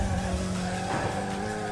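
A car in the Jelly Drift video game drives with engine hum and skidding tires, a steady, loud continuous drone over the brief moment.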